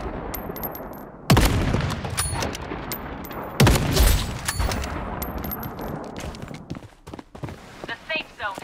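Gunfire in the battle royale shooter BloodStrike, with two loud bursts of shots and metallic impacts over game effects and a voice calling out, then lighter scattered pops near the end.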